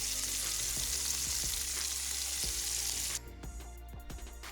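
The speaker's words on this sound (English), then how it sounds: "you can imagine the sizzle of this dish" Cabbage fries in hot oil with a loud, dense sizzle and crackle, then the hiss drops away abruptly, leaving faint clicks and pops.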